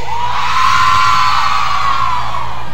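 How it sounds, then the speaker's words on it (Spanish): Women in a live concert crowd yell together in one long, loud, sustained shout that rises and then fades, heard up close and mixed with general crowd noise. "El grito de las mujeres."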